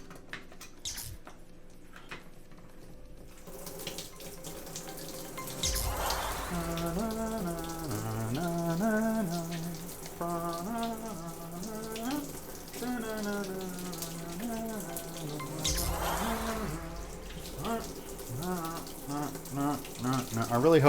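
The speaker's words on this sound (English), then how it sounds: "So let me just wash my hands." Tap water runs into a kitchen sink while hands are washed, a steady splashing wash that starts and stops, with brief bursts and gaps, heard close with no talk over it.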